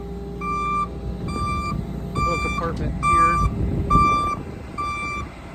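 Repeated reversing beeps sound at a steady rhythm over the diesel engine rumble of a 2006 GMC C8500 Altec digger derrick truck, while someone speaks briefly nearby.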